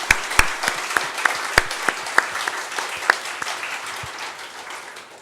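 A church congregation at a Sunday service applauds Jesus Christ, a broad wash of clapping with several loud, close individual claps standing out in an uneven rhythm before gradually thinning.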